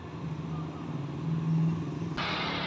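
A bus passes on a road at night with a low rumbling engine that swells gradually, ending in a sudden broadband whoosh as it goes by.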